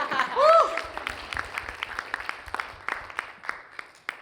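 Audience applause at a legal-tech event for solo and small firms, scattered hand claps after a brief voice at the start, fairly light and thinning out.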